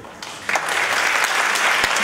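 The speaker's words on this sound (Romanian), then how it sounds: "Mulțumim, aplauze și felicitări!" Applause from a crowd at a university graduation gala rises quickly and continues as steady clapping, fairly close.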